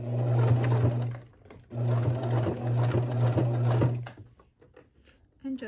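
A sewing machine stitches leather pieces of a small demilune bag. It gives a steady close motor hum with rapid needle pulsing in two long runs, stops near the end, then goes quiet apart from light handling noises.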